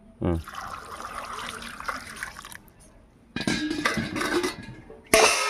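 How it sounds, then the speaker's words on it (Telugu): Water pours into a pot of pumpkin curry cooking in a home kitchen, a brief splash followed by longer bursts of running, trickling liquid with clattering pan sounds. "వాటర్ వేసుకుందాం."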